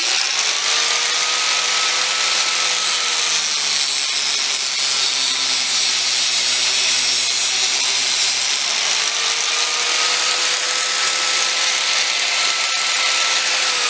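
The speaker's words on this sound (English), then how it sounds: "And I got the cutoff wheel on. Put it in the vise and get it close to the edge so it's not moving around too much," Abrasive cutoff wheel slicing through braided -AN hose clamped in a vise, a steady high whine running for the whole stretch with pitch sagging midway as it bites, then recovering, loud and close with no talk.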